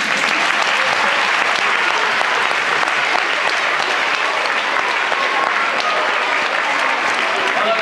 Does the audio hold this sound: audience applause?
yes